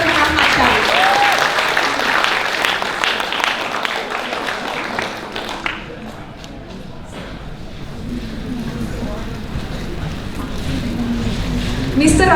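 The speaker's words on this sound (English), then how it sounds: "Please give a big round of applause for Mr. Rahmat Sharif." Loud, sustained applause from a seminar audience welcoming the moderator of a lecture, a dense crowd of clapping hands that eases slightly midway and then swells again.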